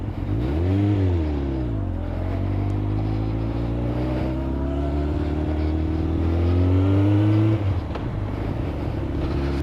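A motorcycle engine heard while riding on a warm day, steady and close, with revs rising and falling in sweeping pitch glides, holding a sustained drone before easing off near the end, with no talking.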